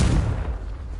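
A Confringo explosive spell from Hogwarts Legacy goes off as a single heavy, loud boom that rumbles low and fades across about a second.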